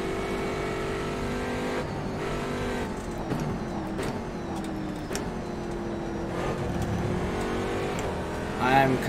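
A race car in rFactor 2 at the laser-scanned Sebring circuit roars steadily, the engine note rising and dropping through gear changes at close range, with a voice talking over it.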